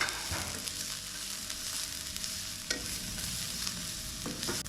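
Vegetables fried in oil for a vegetable soup, a steady close sizzle with repeated scraping stirs of a spoon in the pan, continuous throughout and with no voices.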